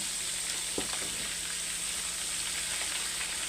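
Chicken frying in a pan for biryani gives a steady, even sizzle close by with a few faint clinks, no voices.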